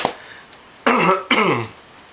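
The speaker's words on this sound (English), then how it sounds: "excuse for the coughing" Two harsh, throaty coughs in quick succession, close and fairly loud, with quiet pauses around them.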